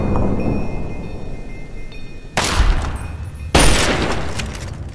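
Two sharp, loud gunshots from a powerful gun in Fallout 3, each followed by a short booming tail, over a low rumbling background.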